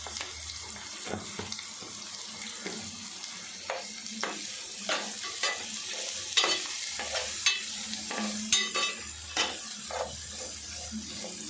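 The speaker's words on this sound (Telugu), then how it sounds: "ఉల్లిపాయలు వేసుకొని కొంచెం సాల్ట్ వేసుకుంటే తొందరగా మగ్గిపోతుంది." Onions fry with salt in a pan for a chicken curry, giving a soft sizzle under repeated scraping and stirring strokes that come in irregular bursts, close-up and moderately quiet, with no talk.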